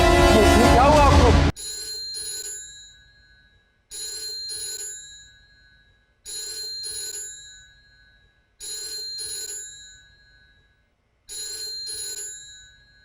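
An old-style telephone bell rings in five repeated bursts with short pauses between, loud and close, after a brief burst of voices at the start.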